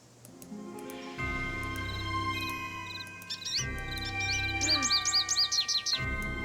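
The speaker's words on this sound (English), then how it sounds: "let's take some pictures of the birds" Birds in Nancy Drew: Ghost Dogs of Moon Lake give short, high chirps and trills over a hum of steady tones, with bursts of fast twittering growing denser toward the end.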